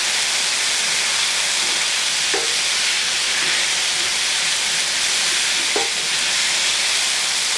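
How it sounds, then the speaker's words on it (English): Spiced shrimp stew in a pot, with a loud, steady hiss of frying and steam and a couple of faint stirring knocks underneath. "You just want to stir it around."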